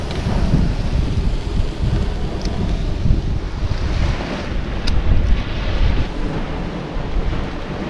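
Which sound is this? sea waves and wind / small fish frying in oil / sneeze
sea waves and wind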